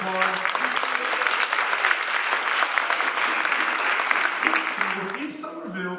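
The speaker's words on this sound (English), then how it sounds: "can you please give them a round of applause?" An audience at a Martin Luther King Day celebration applauds essay competition winners with a sustained, even round of clapping, while a voice speaks faintly beneath it and rises clearly as the clapping ends.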